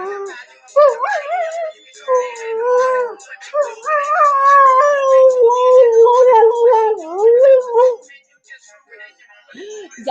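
Bella the dog howls and whimpers in long wavering, rising and falling tones, with brief pauses between cries. Close and loud, with no talk over it.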